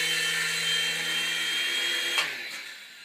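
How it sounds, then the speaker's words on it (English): A small remote control toy helicopter flies close by, its high-pitched motor whine steady and loud for about two seconds before a sharp click as it lands and the buzz quickly dies away. "That's the helicopter."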